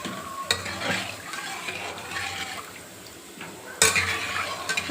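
Tomatoes for rasam sauté on a low flame, a soft sizzle under a few scraping stirs and two sharper clatters of the spoon against the pan, close and fairly quiet.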